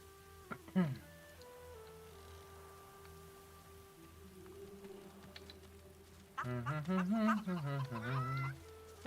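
Chickens cluck in the video game Divinity: Original Sin 2, with a few short clucks early on and a busier burst near the end, mixed with voice-like sounds and soft rain-like ambience.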